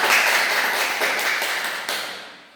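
Students in a primary school science lesson clap their hands together, a brisk burst of many hands that gradually thins and fades toward the end.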